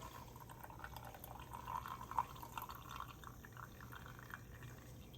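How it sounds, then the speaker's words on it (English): Freshly brewed coffee from an Orb One brewer pours into a waiting cup with a faint, steady liquid trickle and a few soft drips, quiet and close. "So now we will pour it into our waiting coffee cup."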